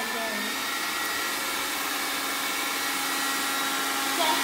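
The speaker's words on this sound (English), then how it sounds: "And you see the blow dryer again." Blow dryer running, a steady whirring motor hum and airflow roar held at an even level throughout, close and alone.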